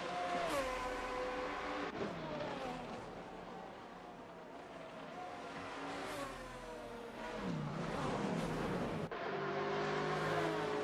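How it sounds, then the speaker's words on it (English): Race cars in Assetto Corsa rev and shift through gears, engine notes climbing and dropping in repeated sweeps with sharp gear-change breaks, loud and close, several cars blending together. "The cars do sound good, I have to give them that."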